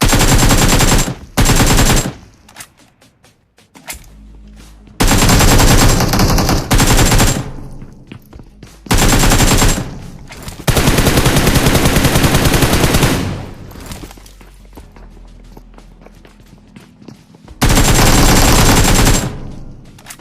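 Automatic gunfire in the mobile battle-royale game BGMI rattles in loud extended bursts, with short gaps and a quieter stretch between volleys.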